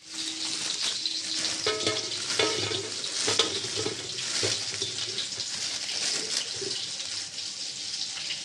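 Potatoes frying in a pan, a steady bright sizzle with intermittent scraping stirs, close and fairly loud throughout.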